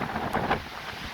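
Strong wind buffets the microphone beside murky, trash-filled floodwater, a brief, soft gusty rush with no voices.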